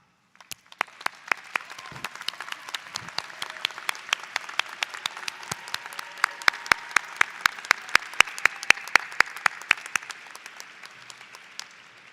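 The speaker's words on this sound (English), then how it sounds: "please acknowledge your family and friends with a hearty round of applause" At a College of Creative Arts commencement, graduates applaud their family and friends. Sharp individual claps ring out over a softer bed of crowd clapping, swelling in the middle before thinning out near the end.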